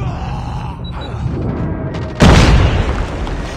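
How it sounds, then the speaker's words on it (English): A Call of Duty Mobile airstrike lands as a heavy in-game boom that erupts partway through after quieter mechanical rumble, then rolls on loudly to the end. "Airstrike incoming."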